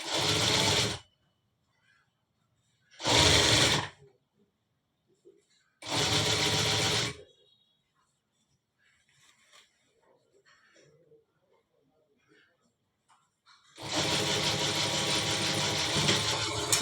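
Sewing machine stitching a full-sleeve shirt, running in three short loud bursts near the start, then a longer run near the end, with quiet pauses and faint handling between.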